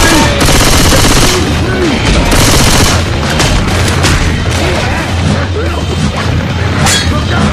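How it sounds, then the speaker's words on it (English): A grenade blast in the video game Left 4 Dead 2 during a loud, chaotic firefight, booms and rapid gunfire crowding together and shouted voices over the din. "grenade!"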